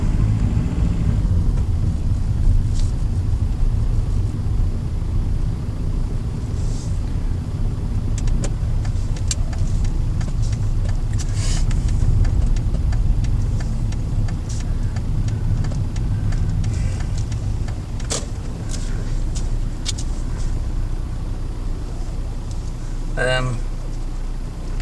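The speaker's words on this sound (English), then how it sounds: "I'm going to pull into this car park for a second." A car pulls into a car park on Inch Island, County Donegal, Ireland, heard from inside as a steady low engine and tyre rumble with faint clicks and bumps, loud and close throughout.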